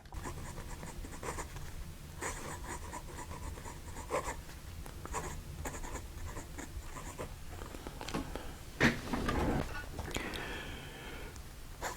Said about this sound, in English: So we're going to put nib to paper.